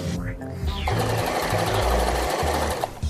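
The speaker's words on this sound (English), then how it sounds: "I'm going to sew up the entire length" Sewing machine stitching the full length of a plush toy's arm seam, a fast, steady mechanical whirr close by with a brief pause and restart.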